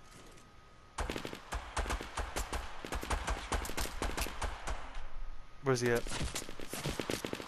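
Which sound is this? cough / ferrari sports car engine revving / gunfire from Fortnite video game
gunfire from Fortnite video game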